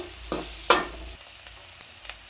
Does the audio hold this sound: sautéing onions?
yes